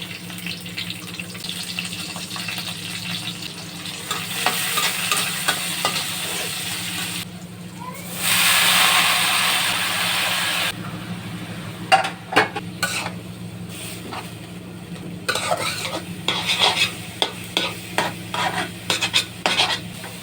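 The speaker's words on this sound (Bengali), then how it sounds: "শাক ভাজিটা বসিয়ে দিচ্ছি, তেলটা দিয়ে নিলাম, একসাথে দিয়ে দিচ্ছি" Leafy greens (saag) frying in oil in a pan, a continuous sizzle with scattered stirring clatter, brief louder hissing bursts partway through, nearby and without talk.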